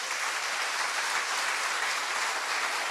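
A church congregation gives a loud, sustained round of applause, a dense steady wash of many hands clapping together with no voices standing out.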